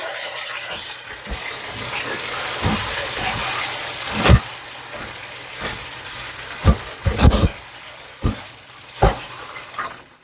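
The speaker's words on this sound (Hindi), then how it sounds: "इन्हें हम फ्राई करेंगे।" Large pieces of chicken frying in a pot, a loud continuous sizzle broken by several sharp bursts and clatters as the pieces are stirred and turned.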